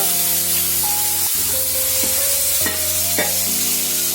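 Potatoes frying in a pan of cumin-ginger spice paste, a steady loud sizzle with stirring scrapes and a few sharp clatters of a utensil against the pan, no talk.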